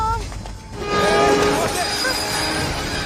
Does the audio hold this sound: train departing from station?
yes